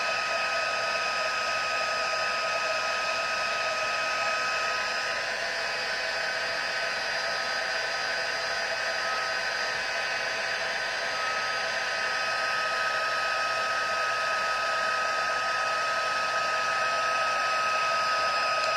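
Heat tool blowing steadily to melt clear embossing powder on a stamped slimline card, a continuous whooshing fan hum with a high whine that runs loud and unbroken throughout, with no talk.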